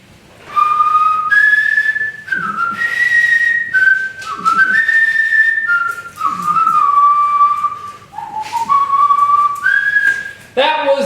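Someone whistles a tune as a call for a pet named Boogeyman: a loud, close, continuous melodic whistle in sliding phrases for about ten seconds, with faint rustling underneath.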